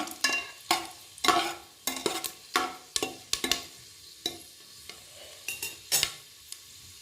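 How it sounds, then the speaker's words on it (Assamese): Bay leaves frying in hot oil in a pan as the first step of a goat meat curry with coconut, giving a run of sharp sizzling crackles and pops in irregular bursts, close and fairly quiet, with no talk. "1 মিনিটমান ভাজি লওঁ।"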